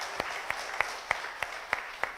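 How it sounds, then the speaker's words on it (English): Slow, evenly spaced claps, about seven of them, ring out faintly at a business gathering, a few hands keeping a loose rhythm with quiet room noise between. "I would like to applaud ourselves with some claps"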